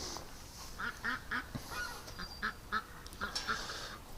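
A frightened duck calls in a run of short, sharp quacks and honks, fairly close and moderately loud, with a few brief pauses between bursts.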